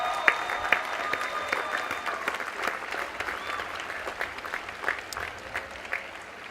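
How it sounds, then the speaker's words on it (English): At a College of Science commencement, the audience claps for the graduates' families and supporters, with sustained, crowded applause and a few sharper individual claps standing out near the front. "Please give them a round of applause."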